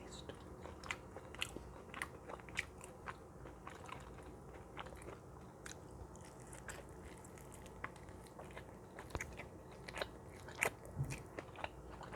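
Close, quiet bites and wet chewing of a frozen turkey wrap, with repeated crunchy snaps and mouth sounds recurring at an irregular pace throughout.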